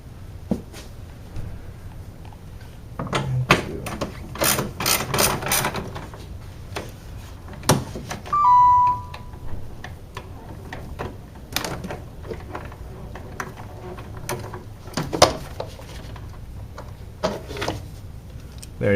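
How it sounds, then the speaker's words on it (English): A hand ratchet removes the air filter housing bolts on a Lexus IS250 in an engine bay. Scattered close clicks and knocks of tool and parts come in irregular bursts with pauses between them. "now that we have these two bolts out of here on the air filter housing"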